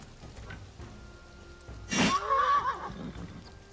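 A horse in the video game Wartales lets out a single loud whinny around the two-second mark, rising over a low ambient game background and trailing off with a wavering tail.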